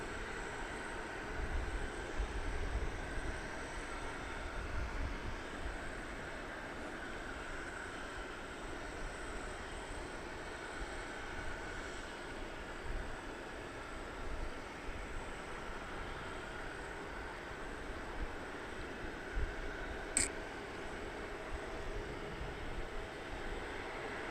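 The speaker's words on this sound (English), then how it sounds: "Departing for San Diego, flight 1243 American Airlines. This is an Airbus A321 Neo." Distant American Airlines Airbus A321neo jet departing a DFW runway at night, a steady broad engine roar that stays low and even throughout, with no voices.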